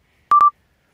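Telephone keypad dialing tones, two quick beeps in succession followed by a brief trailing tone, loud and isolated against silence.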